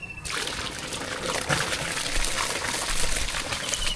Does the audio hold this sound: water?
yes